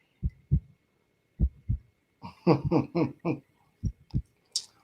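A synthetic heartbeat effect gives soft, deep lub-dub thumps in steady pairs. A short stretch of voice-like sound breaks in midway, then the paired beats return.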